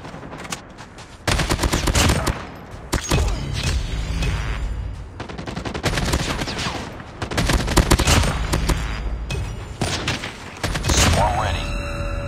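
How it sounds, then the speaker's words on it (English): A deployed sentry gun in a video game fires long, loud bursts of rapid automatic gunfire with short gaps between them, up close and dense with booming impacts. "Sentry gun deployed."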